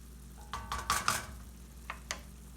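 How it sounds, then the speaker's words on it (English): Potato gnocchi stirred in a pan, a few soft scraping sweeps clustered early then two brief scrapes later, close and moderately quiet over a faint low hum. "A general stir."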